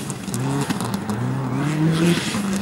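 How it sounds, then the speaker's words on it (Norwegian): A black Subaru Impreza rally car accelerates away at a sprint rally start, its engine rising in pitch through the gears, loud and close, with a steady harsh roar and faint tire noise throughout. "Kjører ganske smalt inn i S-skikkene her, Tony Kaspersen med sin svarte Subaru Impreza."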